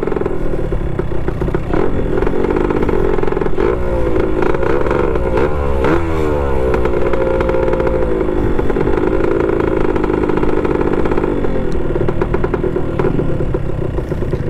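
A Honda CBR 150 or Yamaha RXT-135 motorcycle engine revs loudly and close up, rising and falling through repeated throttle blips over a steady, rough idle that fills the whole stretch.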